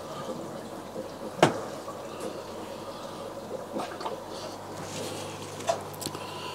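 Water pouring back into a DIY overhead aquarium sump filter, a steady low trickle and gurgle with a few sharp knocks and splashes, fairly quiet.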